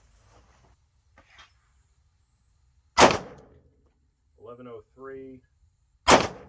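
Two sharp, loud gunshots from Herters budget self-defense rounds in a Winchester case fired through a chronograph, spaced about three seconds apart, with someone speaking briefly between them.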